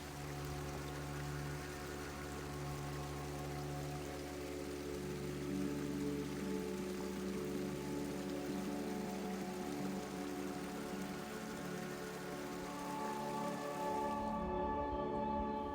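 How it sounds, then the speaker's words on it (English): A small waterfall beside a forest path at Slishwood Forest makes a steady rushing splash, continuous and fairly close, with some low hum beneath and no voices. "The path is dotted with beautiful little waterfalls like this one."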